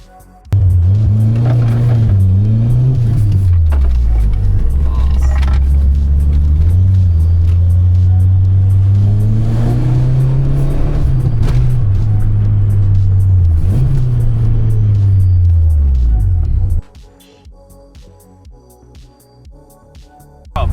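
A Peugeot 205 GTI driven after sitting unused for 7 to 9 years, its engine droning loudly and close from inside, rising and falling with gear changes for about sixteen seconds before dropping to a quiet idle.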